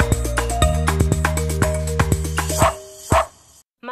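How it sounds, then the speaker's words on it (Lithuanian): A female Springer spaniel barks in a quick series of loud, close yips and bow-wows, with a whimpering end and no talk. "Ši Springer spanielių veislės kalytė vardu Mūza"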